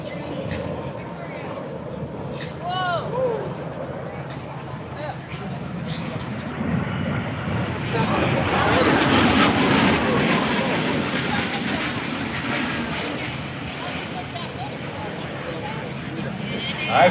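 An aircraft makes an inverted whisper pass at the Duluth airshow, a soft rushing engine sound that swells in the middle and fades, distant and fairly quiet, with crowd murmur and a voice talking over it.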